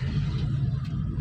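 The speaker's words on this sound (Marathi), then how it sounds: "हां एक्सिलेटर देऊन थर्ड, थोडा एक्सिलेटर, बस फोर्थ." Car engine accelerating and shifting up from third to fourth gear, a steady low mid-pitched engine hum and rumble throughout, fairly close, with no talk.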